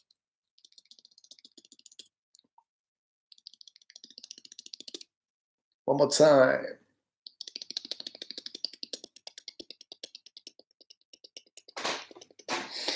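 Beatboxed mouth clicks and light ticks imitating a mouse scurrying across a wooden floor, quick quiet rapid patters in bursts, with one louder breathy burst midway and a couple of sharp hits near the end.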